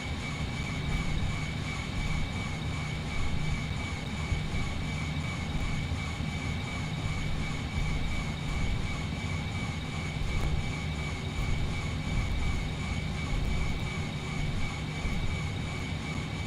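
Airbus A320-232 jet engines spool through a takeoff roll on a stormy night, a loud, steady broadband roar that holds constant without pause.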